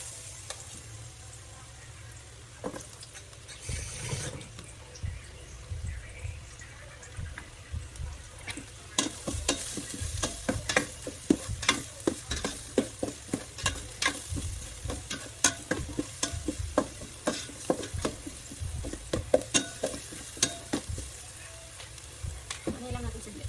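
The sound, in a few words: garlic frying and being stirred in a pan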